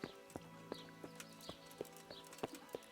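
A horse in the Kingdom Come: Deliverance video game clip-clops at a steady walk, evenly spaced hoof strikes over a low ambient hum, faint and without talk.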